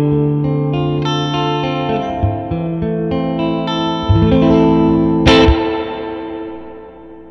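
Electric guitar through a handwired Princeton Reverb tube amp with the reverb turned all the way up plays sustained chords and notes with heavy washy reverb tails, ending in a sharp spring crash and decay.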